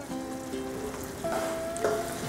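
Pork stir-fry with a cornstarch-thickened sauce sizzles steadily in a pan while being stirred, with soft crackling and a few brief tonal scrapes over the frying noise.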